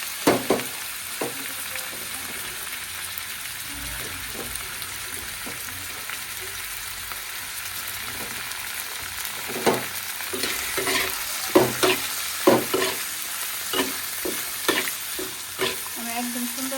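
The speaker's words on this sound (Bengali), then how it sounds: "এখন আমি তেলে পটলের খোসা দিয়ে দিব।" Pointed gourd peels frying in hot oil, a continuous close sizzle with a steady run of spatula scrapes and clicks against the pan growing busier toward the end.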